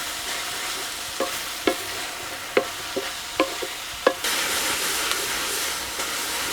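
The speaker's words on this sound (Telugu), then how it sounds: "ఇదంతా ఒక్క రెండు మూడు నిమిషాలు అలా బాగా వేయించుకుందాం" Spices with mint and coriander frying in a pan for Karnataka-style chicken donne biryani paste, a steady sizzle broken by several sharp spatula scrapes and knocks while stirring, then a louder hiss near the end.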